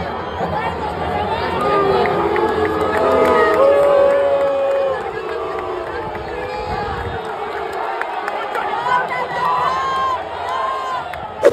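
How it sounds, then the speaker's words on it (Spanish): Football stadium crowd at a clásico, a loud swelling roar of chatter and jeering that rises and falls over several seconds as a player is substituted off, with scattered shouts over the mass of voices. "La desesperación en el estadio se comenzó a reflejar con un abucheo para Toto Salvio"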